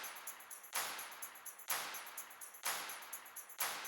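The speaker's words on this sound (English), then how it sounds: "Tambourine." Tambourine sample in a dance track, repeating shimmering hits on each beat with a bright metallic jingle and short decaying tails, heard alone with no voices.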